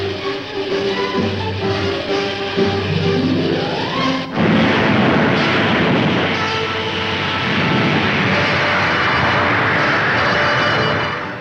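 Jet aircraft in formation taking off, heard from one of the jets, a loud rising engine roar that swells abruptly midway into a broad sustained rush, with no voices.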